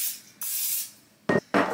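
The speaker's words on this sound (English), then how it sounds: "and I just spray them really lightly." Short hissing bursts of cooking spray onto baking dishes, close by: one longer spray followed by two quick puffs, with a light rubbing sound in between.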